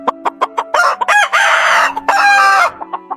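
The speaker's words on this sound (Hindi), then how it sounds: "तीसरी बार सफेद मुर्गा बोला।" A rooster crows loudly and close by, with clucks and short calls around two long, strained cock-a-doodle-doo phrases.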